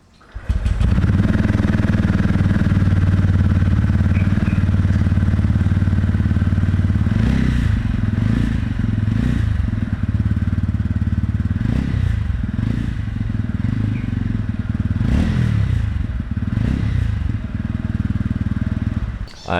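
A TVS Ronin motorcycle engine runs close by, a loud steady low rumble with a throbbing idle that holds throughout, with occasional clattering thumps and rev changes.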